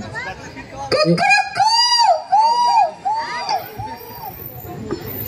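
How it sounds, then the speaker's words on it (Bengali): Roosters crow repeatedly at a traditional rural cockfight held during a school festival, several drawn-out calls overlapping one another amid a murmuring crowd and background voices. "চলছে গ্রামীণ ঐতিহ্যবাহী খেলা মোরগ লড়াই।"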